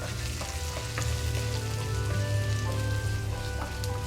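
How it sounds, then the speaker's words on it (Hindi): Finely chopped onions fry in a pan with a steady, close sizzle and occasional stirring scrapes, a continuous crackle with a low hum beneath. "और उसके साथ हम डाल देते हैं हमारी प्याज जो हमने बारीक काटी है। और इसको भी हम भून लेते हैं।"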